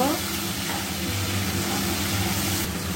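Shrimp coated with salt and turmeric fry in oil in a pan, giving a steady close sizzle with a low hum beneath it.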